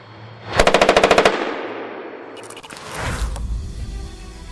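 M240C 7.62mm machine gun mounted beside the Bushmaster chain gun on an M2 Bradley fires one loud, rapid burst of about ten shots, followed by trailing echo and rumbling vehicle or battlefield noise.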